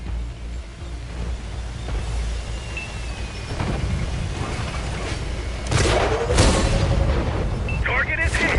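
Tank guns fire rounds in World of Tanks, heard as heavy booms and impacts over a constant rumbling game soundscape, with a louder cluster of blasts near the end and speech in the background.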